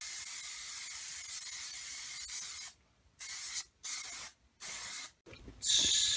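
Plasti Dip coating sprays onto car rims in a steady hiss from an aerosol can, followed by several short bursts separated by pauses, close and moderately loud.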